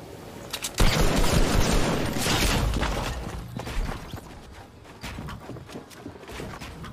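Gunfire from a hunting rifle in a Fortnite tournament match: loud, dense bursts of shots and booms in the opening seconds, thinning into scattered cracks and footsteps toward the end.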